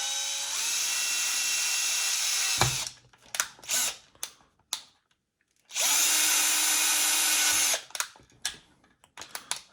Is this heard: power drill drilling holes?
yes